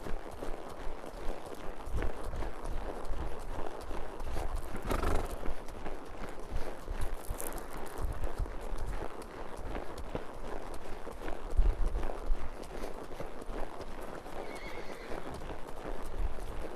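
A horse being worked in a training session neighs and its hooves clip-clop on the ground, a steady mix of footfalls with whinnies rising over continuous movement noise.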